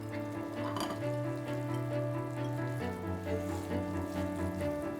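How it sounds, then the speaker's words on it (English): Glutinous rice being stirred in a pot, a continuous soft scraping and sizzling as the spoon drags through the sticky grains, steady and close over low background music. "It's very hard to stir."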